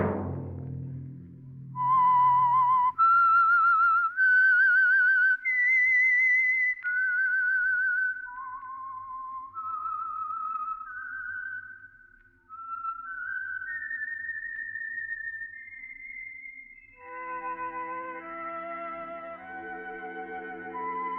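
The whistled theme of the 1947 radio drama The Whistler plays alone, a clear melody rising and falling through a slow tune, ending with a fuller orchestral swell joining the whistle.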